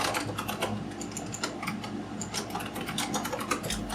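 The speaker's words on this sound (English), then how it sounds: "Typing on this keyboard is very loud." Rapid, loud clacking keystrokes on an Azio Retro Classic typewriter-style keyboard, a dense, uneven patter of close mechanical clicks without pause.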